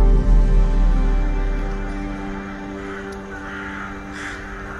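Crows caw within a song, with several harsh calls sitting over sustained musical tones and a deep bass that fades slightly as the passage goes on.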